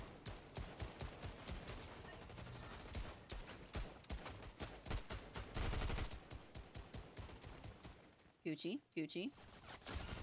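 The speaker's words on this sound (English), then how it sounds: "I hear bullets flying" Rapid bursts of gunfire in Fortnite, repeated sharp shots in quick volleys close by, mixed with game effects and a player's voice talking over the action.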